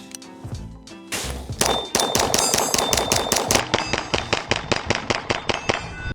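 Rapid gunfire from a Walther PDP Steel Frame pistol, a quick run of sharp loud cracks with bright ringing metallic tails, growing into a dense rhythmic string of shots, with no talking.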